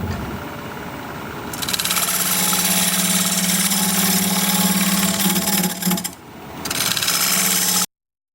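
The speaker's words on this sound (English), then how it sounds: "We will go with this hollowing tool" A lathe spins a cherry plum bowl while a hollowing tool cuts into it, giving a loud, steady buzzing drone that holds for several seconds, dips briefly, then resumes before cutting off abruptly; no voices.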